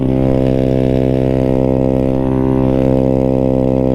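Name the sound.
Honda CRF dirt bike engine running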